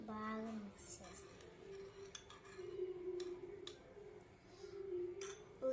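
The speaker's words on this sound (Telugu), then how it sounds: "ఇవన్నిటిని బాగా మిక్స్ చేస్తాం." Ugadi pachadi ingredients being mixed with salt in a bowl: quiet, irregular clinks and scrapes of a spoon against the dish, with a voice briefly at the start.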